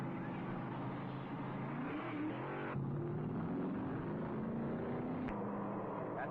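NASCAR stock cars race at the 1978 Alabama 500 at Alabama International Motor Speedway, a steady loud roar of engines with pitch rising and falling as cars pass, a brief sharp crack near the end.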